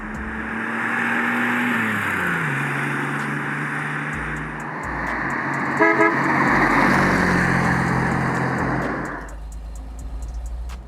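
1963 Chevrolet Corvair Monza Spyder turbo on a test drive, engine tone rising and shifting through gears as the car pulls along, brief horn-like toots midway, then the engine note drops away near the end.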